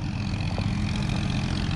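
A smoking tractor engine in need of an overhaul runs steadily at close range, giving a continuous low, rough rumble with no pauses.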